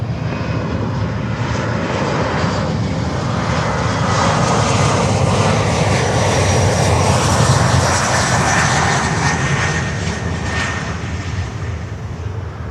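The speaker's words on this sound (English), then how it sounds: "this is an Embraer 175 coming in from Atlanta, Georgia" An Embraer 175 jet arriving to land at Miami airport produces a loud, continuous engine roar with a slowly shifting whine as it passes fairly close, with no talking.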